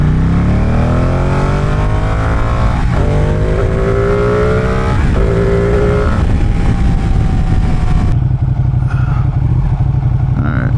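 Motorcycle engine running loud and close on a busy street, revving and dropping through a downshift with shifting pitch, plus clatter from riding over a bumpy road surface.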